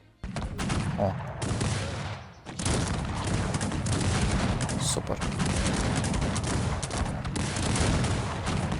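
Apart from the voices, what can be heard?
musket gunfire from the video game Cossacks 3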